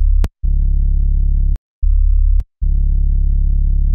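Clean sub bass in an FL Studio Detroit-style beat with the Waves Lil Tube distortion bypassed: deep sustained low tones in long held notes with short gaps, plus brief sharp percussive hits.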